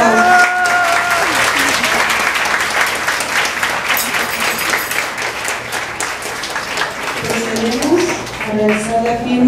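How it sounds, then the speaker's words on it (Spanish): A crowd applauds steadily for several seconds at a wedding ceremony, the clapping loud and continuous, with a voice speaking over it near the end. "Fuertes los aplausos, damas y caballeros."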